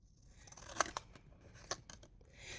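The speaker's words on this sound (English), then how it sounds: "So I'm going to cut this in half, this postcard, and then I'm going to cut it in half again." Scissors cutting a paper postcard in half, a few crisp crunching snips with papery rustling between them, close and fairly quiet, with no speech.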